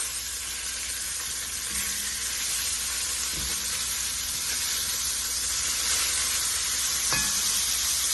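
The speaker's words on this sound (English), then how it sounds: "All right, so we got a nice crust on the side. We're gonna flip these over." Lamb chops turned in a hot pan, newly crusted on one side before braising, hiss with a loud, continuous close sizzle and a couple of faint clanks of the pan, no one talking.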